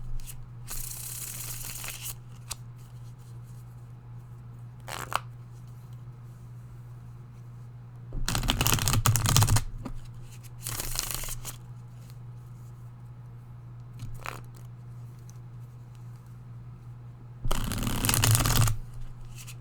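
A deck of cards being shuffled for a tarot-style reading, several bursts of riffle shuffling close up, each lasting a second or two, separated by quieter handling and soft card taps over a low steady hum.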